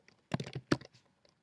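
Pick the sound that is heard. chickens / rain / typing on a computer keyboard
typing on a computer keyboard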